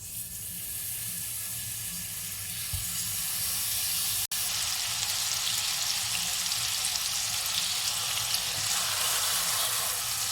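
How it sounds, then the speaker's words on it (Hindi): Minced meat kebabs fry in shallow oil in a pan, giving a continuous bright sizzle that holds steady throughout, broken once by a sharp click partway through. "अब हम कबाबों को फ्राई कर लेंगे।"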